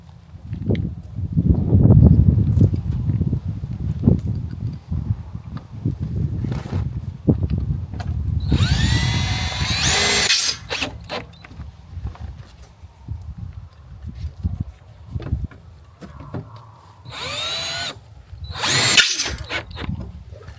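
A power drill drives screws into an old feeder barrel, with bursts of whirring and grinding over a scraping, rattling handling noise, close and loud.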